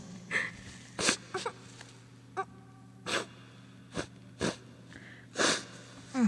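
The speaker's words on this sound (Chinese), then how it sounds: "我突然想擤鼻涕" A person with lingering cold symptoms blows their nose in a series of short, close snorting and sniffing bursts spaced across several seconds, with a faint steady hum in the background.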